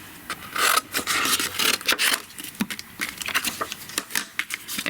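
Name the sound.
trimming paper with a trimmer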